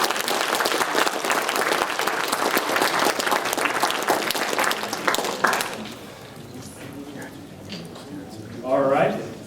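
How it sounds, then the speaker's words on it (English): Applause for debaters at a student debate at UW-Whitewater: a thick burst of many clapping hands for about five seconds, then it thins out and quiets, with voices talking near the end. "Let's give our debaters a round of applause."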